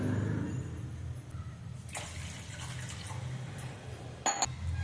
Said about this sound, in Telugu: అదే గ్లాస్తో రెండు గ్లాసులు నీళ్ళు తీసుకోవాలి